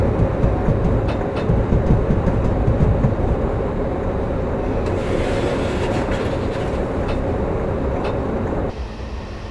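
Freight train hauled by a BR151 electric locomotive rolls steadily past at close range, a continuous loud rumble and wheel noise with faint clickety-clack, easing slightly toward the end.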